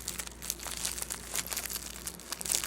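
Tightly packaged fashion jewelry having its wrapping opened, with a steady run of close, quiet crinkling and rustling of plastic, along with small crisp tearing-like bursts.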